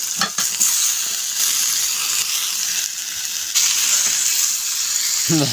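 Chicken pieces fry in a pan after their juices have cooked off, a loud, close, continuous sizzle and hiss with scraping stirs running through it and no talking.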